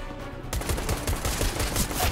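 Rapid bursts of pistol gunfire from the video game CS:GO, loud and close, firing repeatedly in a dense, continuous run after a brief quieter opening, with no talking over it.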